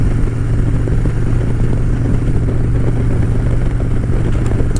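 Motorcycle engine running loud and steady from close by, a constant mid-pitched drone with a faint clatter throughout and no talk.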